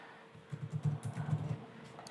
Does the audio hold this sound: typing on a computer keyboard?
yes